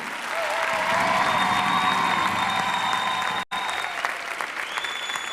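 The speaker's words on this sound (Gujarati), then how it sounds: "બંધુઓ, તાળી પાડો, તાળી." Steady, dense applause from a large audience at a golden anniversary celebration in London, loud and sustained, with a brief cut partway through before the clapping resumes.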